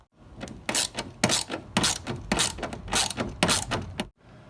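A ratcheting tool works loose the bolts holding a speaker in a Hummer H2 door, making a rapid run of close, loud clicking bursts in a steady rhythm for about four seconds.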